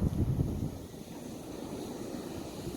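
Wind gusting outdoors in Florida, buffeting the microphone with a steady low rumble that is strongest at the start and then settles into a constant roar, with no voices.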